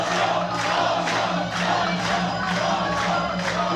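A loud, dense crowd roars steadily at a Lethwei bout between Michal Kosik and Daniel Lariviere, with recurring swells of cheering and a low steady hum beneath, continuous throughout.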